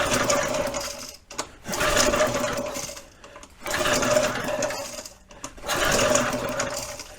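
Gas-powered scuba compressor engine cranked over with a compression tester fitted and the throttle wide open, producing three loud mechanical whirring bursts separated by brief pauses.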